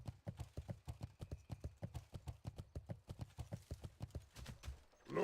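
A horse mount gallops in World of Warcraft, with steady rhythmic hoofbeats, close and clear, lasting throughout without pause.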